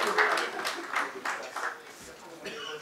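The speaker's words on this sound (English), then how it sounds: "Can we have a huge round of applause for our panelists?" An audience at a hotel seminar panel discussion applauds the panelists, a sustained wash of clapping with a voice speaking over it.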